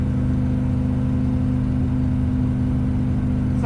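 A 1968 Camaro SS with an L78 engine idles steadily up close, a loud, even, lumpy rumble with a deep droning tone and no break throughout.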